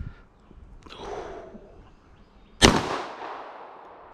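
A single sharp gunshot cracks outdoors at a target, loud and close, with a decaying echo trailing off afterward; a fainter muffled knock sounds earlier in the clip.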